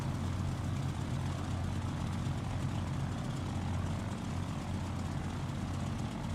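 Propeller aircraft engine in the DCS flight simulator coming in to land, a steady, loud droning rumble with a low throbbing tone that stays constant throughout, with no talk.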